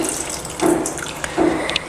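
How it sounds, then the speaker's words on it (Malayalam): About two cups of water poured into a clay pot for cooking ripe mango pulissery, heard as two short splashing pours close by with a quiet pause between them. "ഞാനിവിടെ ഒരു 2 കപ്പ് വെള്ളം ചേർത്ത് കൊടുക്കുകയാണ്"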